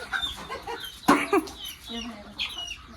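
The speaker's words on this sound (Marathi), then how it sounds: "कोंबड्या आता ही कोंबडी बसवलेली आहे पिल्ल्यांकरता" Village hens and small chicks cluck and cheep near a brooding hen, several short calls and peeps at close range with brief background chatter and a sharp knock partway through.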